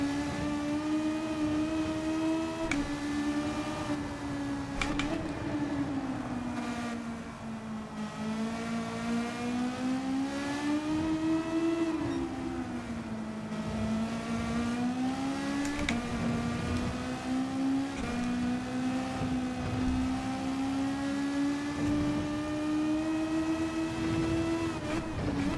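A Ferrari race car engine in Gran Turismo 7 holds a loud, steady high-revving drone through a Group 3 race at Deep Forest Raceway Reverse, its pitch rising and falling with gear changes and corners, with no talking over it.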